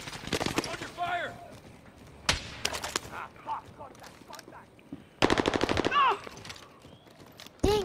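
Rapid automatic gunfire rattles in bursts during a Warzone match on Rebirth Island, with sharp close volleys separated by pauses and a voice speaking between them.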